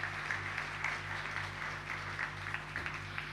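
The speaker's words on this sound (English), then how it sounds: "Come on, crowd, let's give them a round of applause as they go for a break." Crowd applause at a national schools debate grand final, a steady, moderately distant wash of clapping that carries evenly through the whole stretch with no talk over it.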